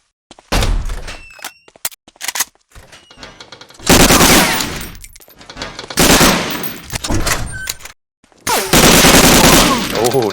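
Gunfire in the multiplayer shooter Medal of Honor Allied Assault comes as loud, sharp bursts of automatic fire separated by brief silences, with scattered single shots and thuds between the volleys.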